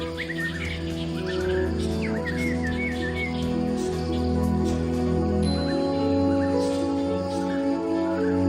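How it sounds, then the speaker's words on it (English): Colorful birds in a Thai tropical rainforest give quick chirping calls, faint and scattered in the first half, under a steady musical backdrop. "Tropical rainforests are home to many kinds of colorful birds."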